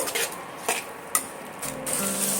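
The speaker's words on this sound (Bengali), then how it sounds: "আবারও কিছুক্ষণ ধরে পেঁয়াজটা এইভাবে ভাজা ভাজা করে নেব" Onions fry in a pan with salt, a soft sizzle broken by several scraping stirs and clinks of a utensil against the pan, then a steadier hiss near the end.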